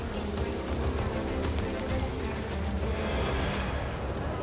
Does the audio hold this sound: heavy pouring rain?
yes